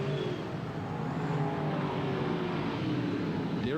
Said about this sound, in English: Side-by-side racing.